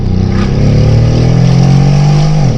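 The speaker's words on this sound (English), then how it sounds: "This has side exit exhausts. So you're getting triple the reverberation." A Brabus G700 with side-exit exhausts revs loud and close, a deep throbbing drone that rises and holds for a couple of seconds before dropping off sharply.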